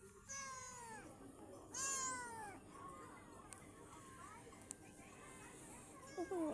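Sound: new cat meowing

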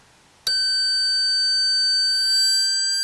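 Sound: beeper of acoustic switch burglary alarm circuit

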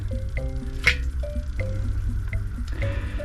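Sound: pipe being pushed into a wet dug well hole

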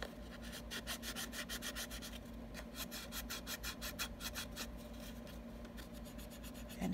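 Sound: bone folder rubbed along paper crease lines

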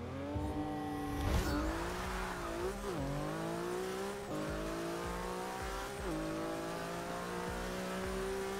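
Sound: race car accelerating in a video game

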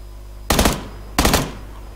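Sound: gunfire in the video game PUBG Lite

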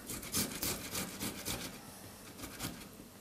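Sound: grating tomatoes on a grater

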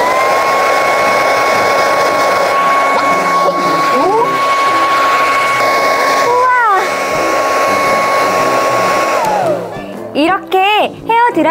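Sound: hair dryer melting ice around a toy dinosaur egg

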